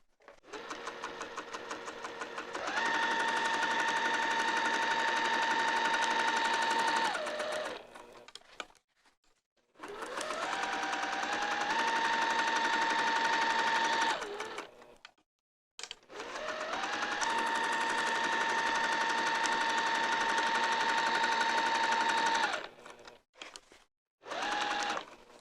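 Sewing machine stitching a vinyl zipper wristlet in three long runs, a steady close motor whir that ramps up to speed and holds, with short quiet gaps and faint handling between passes.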